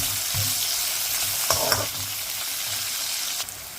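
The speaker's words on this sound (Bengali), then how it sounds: "পেঁয়াজগুলো লাল হওয়া পর্যন্ত ফ্রাই করব" Onions and green chilies fry in a pan with a bright, constant sizzle. Stirring scrapes come through near the middle and again toward the end.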